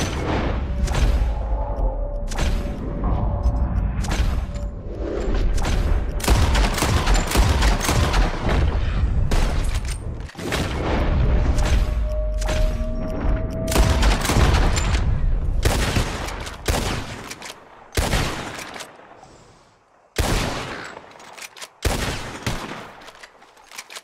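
Rapid gunshots from a shooting contest in the Red Dead Redemption 2 video game, loud sharp cracks in quick bursts and volleys, sustained early then thinning into separate spaced shots.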